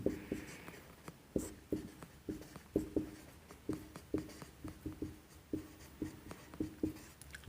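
Chalk tapping and scraping on a classroom board during a Class 11 chemistry lesson on Mendeleev's periodic table, a steady run of short, close strokes roughly twice a second with no voice over them.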